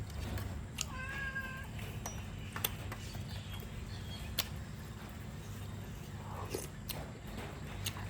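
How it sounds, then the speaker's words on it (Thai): A cat meows in a short rising-falling call about a second in, close and fairly clear, against a steady low indoor hum with occasional clicks, set in a home kitchen while mushroom curry is being made. "นะเหมียวเหมียวจะมามีส่วนร่วมในคลิปแล้วลูก"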